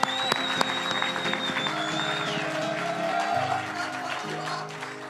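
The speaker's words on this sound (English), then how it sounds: "I think we need to give Madhvi a huge round of applause." An audience at a conference opening session gives Madhvi a round of applause, a steady clatter of many hands over low background music.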